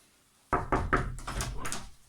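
Close-up door sounds: a quick series of three or four knocks or latch rattles, followed by the door swinging open with some rustling. No voices are heard.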